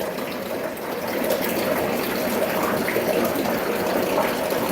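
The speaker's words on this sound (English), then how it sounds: "I fill that up like that, and then the container goes there." Tap water pours into a container in a steady, loud, close rush that holds constant from start to finish.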